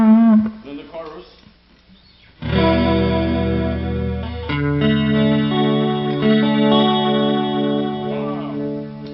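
Electric guitar played through a Donner chorus effect pedal, sustained shimmering chords ringing loud and close after a brief spoken word at the start, with a fuller strummed chord entering midway.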